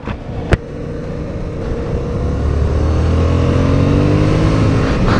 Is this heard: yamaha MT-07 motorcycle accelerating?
yes